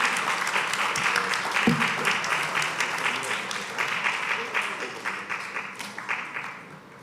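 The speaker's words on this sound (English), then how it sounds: "we want a rousing round of applause, thanking you for your presentations" Sustained applause from an audience at a school graduation ceremony, dense steady clapping that runs the full length and gradually thins toward the end.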